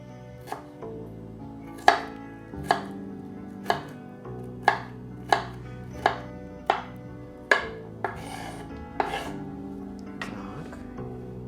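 A knife chops vegetables sharply on a cutting board, about a dozen crisp strikes in a steady, unhurried rhythm, close and clear.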